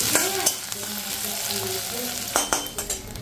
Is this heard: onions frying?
yes